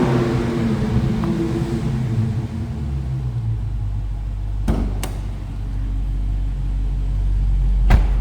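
A 2023 Dodge Challenger SRT Scat Pack Shakedown Special Edition idles with a steady, deep low rumble that holds throughout, broken by a few sharp knocks or clicks near the car.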